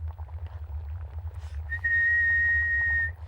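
Soft, steady lip whistle holding one clear note for over a second, starting after a short stretch of quiet background hum and sustained to the end with no talk over it.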